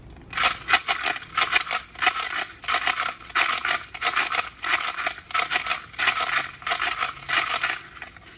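A snapping turtle shell rattle with bells attached to its ribs, shaken close up in a fast, continuous chocalho-style rhythm, giving a dense, steady jingle and scrape.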